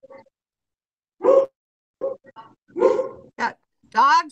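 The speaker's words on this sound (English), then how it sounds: "Got dogs barking." A Weimaraner and other dogs bark somewhere outside the room: a handful of separate short barks and a rising whine-like yelp, spaced irregularly with silence between them, moderately loud.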